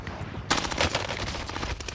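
Rapid automatic gunfire from a console shooter game, a steady loud burst of closely spaced shots that runs for about a second and a half.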